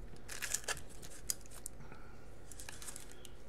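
A taped mail envelope is torn and cut open up close, with quick crisp ripping, crinkling paper and small scissor-like snips in short bursts over a quiet background.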